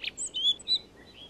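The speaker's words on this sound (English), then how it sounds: "when the rock thrushes start to sing" Rock thrushes sing on a mountainside in late August, a few short, high, bright chirps and whistled notes in quick succession, clear and alone against a quiet background.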